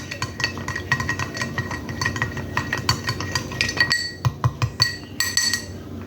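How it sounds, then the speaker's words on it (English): A spoon stirring an Old Fashioned whiskey cocktail in a glass, giving rapid, steady clinks of metal against glass and ice that turn sharper and more spaced toward the end. "Very important to get a good stir on your whiskey."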